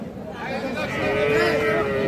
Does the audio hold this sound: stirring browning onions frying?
no